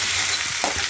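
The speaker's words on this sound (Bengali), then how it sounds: "আলু পেঁয়াজ ভাজা হচ্ছে" Potatoes and onions frying in a pan with a steady loud sizzle, while a spoon stirs them in scraping strokes over the hiss.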